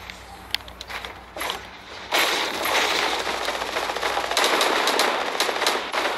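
Rapid bursts of gold pistol gunfire in a video game, crackling shots layered with footsteps and scuffling, growing denser and louder partway through, with no speech heard.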